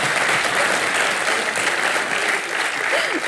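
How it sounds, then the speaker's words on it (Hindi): A studio audience at a TV talk show breaks into loud, full applause, a dense burst of clapping with faint voices mixed in. "तालियां मारो इनके लिए।"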